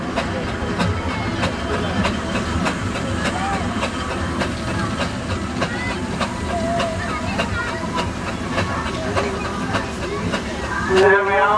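A 19-ton steam traction engine, the biggest at a Lanlivery rally, chuffs steadily close by with a regular rhythmic beat and hissing steam, with crowd noise around it.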